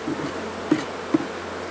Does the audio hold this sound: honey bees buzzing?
yes